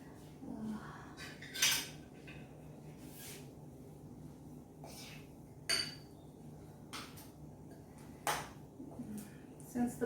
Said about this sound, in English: Since the batter is a little stiff, so I'm using 2 spoons to just mix in the chips